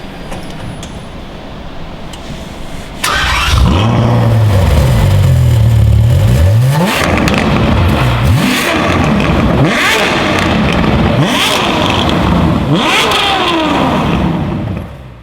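A Ferrari F12 TDF V12 revs hard indoors, roaring loud in repeated rising sweeps with sharp throttle blips, echoing in the building.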